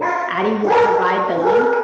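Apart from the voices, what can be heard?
dog barking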